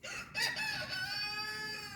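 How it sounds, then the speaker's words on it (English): A rooster crows in the background, a clear, drawn-out call with a sharp rising start that tapers off over about two seconds, moderately loud and heard alone. "that's a rooster in the background"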